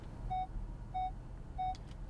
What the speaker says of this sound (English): it'll start to beep, and the closer you get, the faster the beeping becomes